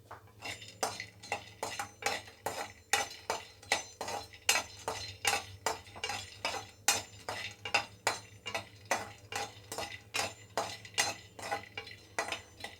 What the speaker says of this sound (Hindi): और जो मैंने काटे हैं काजू, उनको भी हम भून लेते हैं